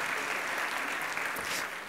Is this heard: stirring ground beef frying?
no